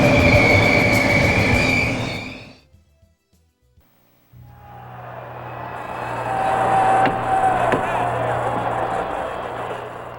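A model electric train rumbles past loudly, wheels squealing and clattering, then fades to near silence before another rolls through with grinding, screeching rails, on a large basement layout in Toronto.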